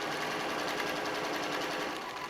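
A sewing machine stitches across vinyl for a cell phone bag, a steady, close, continuous whirring hum with fast needle rhythm and no pauses or talk.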